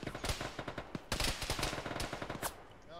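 A heavy gun fires rapid bursts in a military combat game, with loud, close, clustered shots, a brief pause, then another long burst and a tapering tail.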